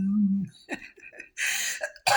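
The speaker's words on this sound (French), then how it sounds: "on entend encore au niveau de la toux" A person recovering from an illness coughs in a short series of harsh, breathy bursts, close and loud, after a brief low vocal sound, with quiet gaps between coughs.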